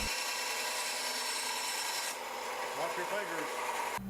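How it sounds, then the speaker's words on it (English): A 10-inch benchtop bandsaw cuts a curve in wood, with a continuous steady buzzing hum and rasping blade sound throughout, close and loud, dropping slightly in pitch partway through. "he's going to cut a curve, which will put a little bit more stress on the blade"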